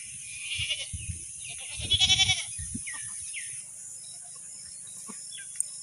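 A farm goat that has just given birth to kids, bleating in a few short bursts near the start and a louder cluster midway, then quieter rustling with faint insect chirps behind.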